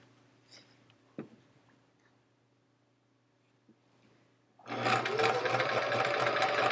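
A sewing machine runs steadily while stitching a quilt top, a dense continuous whir that starts abruptly after a few faint taps and handling sounds and carries on loud to the end.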